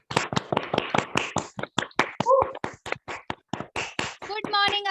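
A small gathering at a leadership event claps for a speaker coming up, a sparse string of distinct, close individual claps in uneven rhythm, with brief bits of voice mixed in toward the middle and end.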